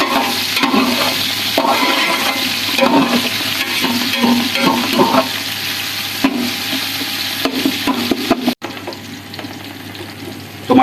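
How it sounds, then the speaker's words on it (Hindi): Chopped tomatoes softening in a frying pan while a home recipe for Hyderabadi-style chicken dum pulao is cooked, a steady close sizzle broken by scraping stirs of a spoon, with a clatter near the end. "और टमाटर को भी अच्छे तरीके से हम सॉफ्ट कर लेंगे।"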